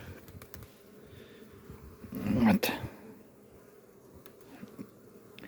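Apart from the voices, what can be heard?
bees buzzing around the hive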